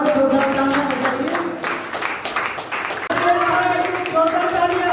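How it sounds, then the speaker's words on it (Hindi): An audience claps after a duet dance performance at a college Teacher's Day celebration, with scattered, rhythmic hand claps underneath someone talking loudly over a microphone. "एक बार और जोरदार तालियां बजाइए।"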